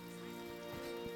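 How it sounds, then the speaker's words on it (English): Rain falls in the building game Stonehearth, a soft, steady patter of drops heard faintly alone beneath sustained background music tones. "now it's raining"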